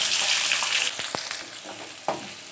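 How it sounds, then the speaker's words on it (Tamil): Small onions being sautéed in a pan of oil with fried cinnamon, fennel and cloves, a steady close sizzle with a few clicks of stirring and no voices. "நம்ம இப்போ வந்து கட் பண்ணி வச்சுருக்க சின்ன வெங்காயத்தை போட்டு வதக்கிக்கிறோம்."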